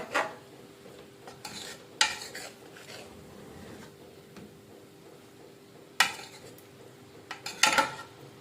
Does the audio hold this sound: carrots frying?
yes